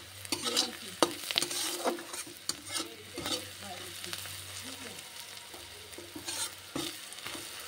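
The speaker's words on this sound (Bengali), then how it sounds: "পেঁয়াজটা ভাজা হয়ে গেছে, এইবারে এর মধ্যে পরিমাণ মতন হলুদ দিয়ে দিতে হবে।" Fried onions sizzle in a pan while turmeric is stirred in for a Bengali-style bhola fish curry, with a steady fry hiss under repeated scraping spoon strokes, close and fairly loud.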